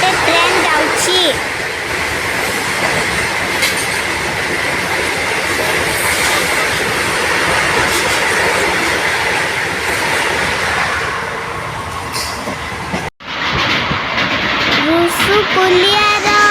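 Another train runs past on the neighbouring track during a rail journey from Brahmapur to Bhubaneswar, a loud, continuous rumble and clatter of wheels close by with a brief dropout near the end and faint voices underneath.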